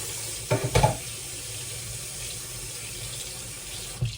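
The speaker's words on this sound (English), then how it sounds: "Now I'm just rinsing my chickpeas." Chickpeas rinsed under a running kitchen tap, a steady close water hiss with a couple of brief splashy bursts as they are shaken.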